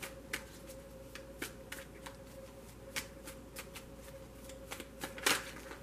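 Tarot card decks shuffled by hand close up, giving soft, irregular riffling snaps and rustles at a quiet level.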